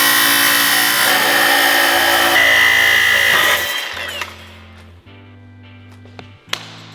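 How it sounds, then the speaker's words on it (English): A power tool cuts through a bolt on a rebuilt Porsche GT4: a loud, steady high grinding whine runs for about three and a half seconds, then the tool spins down, leaving a fading hum and a couple of sharp knocks. "That bolt is getting cut."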